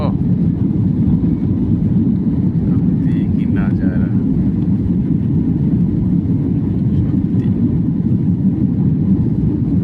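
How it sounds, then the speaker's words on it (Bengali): Steady, loud roar of a passenger airliner taking off on a Jaipur to Pune flight, heard from inside the cabin as a constant rumble, with a few brief words spoken over it. "দিয়েছে উড়ান সুন্দর করে উঠে যাচ্ছে"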